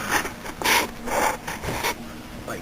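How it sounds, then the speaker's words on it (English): A brake line wrench works a bleeder bolt loose on a rear brake caliper of an all-wheel-drive Mercury Montego / Ford 500, giving several short scraping, rasping turns close by with no talk. "slide our brake line wrench onto the bolt portion"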